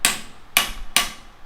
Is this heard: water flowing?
no